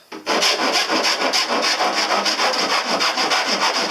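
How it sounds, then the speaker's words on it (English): A metal file smooths freshly cut metal edges around a window opening during a camper van conversion, making quick, rhythmic rasping strokes up close that repeat steadily. "after any metal work we always want to go around with a metal file, make sure it's nice and smooth around the edges"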